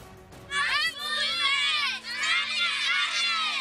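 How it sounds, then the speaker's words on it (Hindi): Schoolgirls chanting slogans together at a protest in South Waziristan, Pakistan, with parents joining; a loud, sustained crowd of young voices shouting in unison, close and continuous. "जनूबी वजीरिस्तान में स्कूल की बच्चियां नारे लगा रही हैं तालीम हासिल करने के लिए।"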